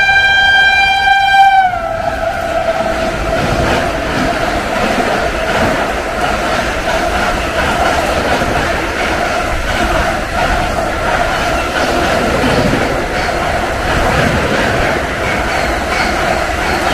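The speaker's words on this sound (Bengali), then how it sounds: "আর এখন ট্রেন এসে পৌঁছলো কানপুর সেন্ট্রাল।" The Brahmaputra Mail train pulls into Kanpur Central station, opening with a loud horn blast and then a continuous heavy rumble of passing coaches with rail clatter, close and sustained.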